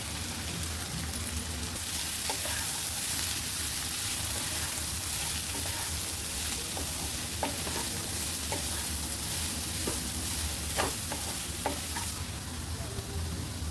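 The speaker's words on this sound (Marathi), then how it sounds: "कांदा चांगला फ्राय करून घेऊया कांदा चांगला लाल झाला टोमॅटो टाकून घेऊया चिरून ठेवलेलं बीट आहे" Chopped beetroot sizzles with onion and tomato in a pan, a steady frying hiss throughout with scattered scraping clicks as the mixture is stirred, fairly close and without talk.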